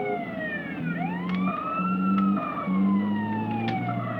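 An ambulance siren in GTA San Andreas wails with overlapping sweeping tones close by over engine and traffic rumble, with short horn-like blasts cutting in and no voices.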